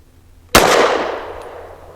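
A single sharp, loud 9mm pistol shot from a BRG9 Elite Gen 2 firing Hornady Critical Duty 135 grain +P ammunition, with a crisp crack followed by a long, decaying outdoor ring.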